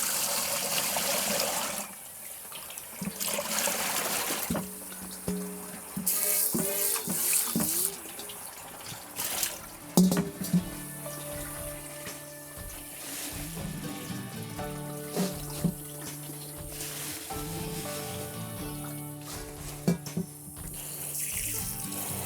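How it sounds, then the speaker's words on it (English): Sweet potato leaves being washed by hand in a basin of water, with splashing, swishing and dripping sounds coming in irregular bursts, close by and fairly loud with no talking. "So for the first wash, you can see that the water is pretty dirty."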